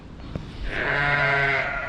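A sheep in a barn lets out one long, close bleat that rises and wavers, over steady wind noise and low background rumble.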